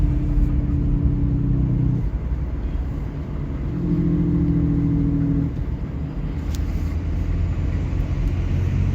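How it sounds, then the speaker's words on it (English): Diesel pickup with a 5.9 common rail engine and the exhaust brake engaged, giving a loud, steady low drone with a gruff rumble that swells and eases in waves while the truck is driven. "So that's the exhaust brakes on,"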